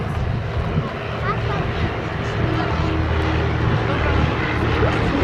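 Douglas R4D-6 and Supermarine Spitfire XIV getting airborne at the Duxford summer airshow, a continuous propeller engine drone at moderate distance beneath a public-address commentator's voice.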